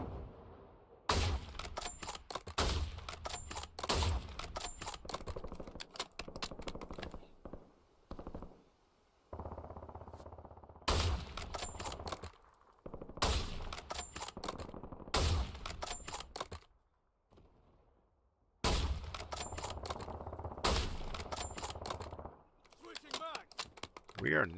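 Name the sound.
gunfire in the video game Warzone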